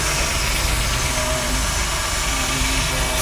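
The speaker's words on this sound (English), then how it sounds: "a steam cart wagon with a massive chain on the back wheel" A steam cart wagon with a massive chain on its back wheel at an outdoor steam fair gives off a dense, steady hiss and rumble, loud and close, with faint mechanical tones underneath and no talking.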